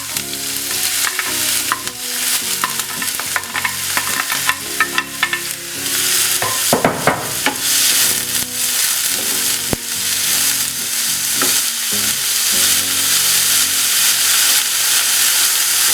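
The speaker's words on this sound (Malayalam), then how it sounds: "ഇതിലേക്ക് നമുക്ക് ചോപ്പ് വെച്ച് സവാള ഇട്ട് കൊടുക്കാം." Chopped onions hit hot oil in a pan for a spicy chicken roast, giving a loud, continuous sizzle with frequent close spatula scrapes and clinks throughout.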